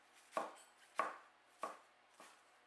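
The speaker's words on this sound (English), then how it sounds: "I like to slice it up about a half an inch or just over a centimeter thick" Napa cabbage sliced with a knife on a board into half-inch pieces, four crisp chops about half a second apart, close and quiet with no talking.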